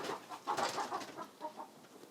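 Backyard chicken clucking in short, irregular bursts, fairly close and moderately loud, with no talking over it.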